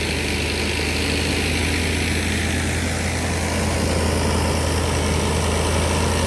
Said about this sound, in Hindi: सोनाली का 60 वर्षीय सुच्चा सिंह एंड ब्रदर्स की मशीन चल रही है।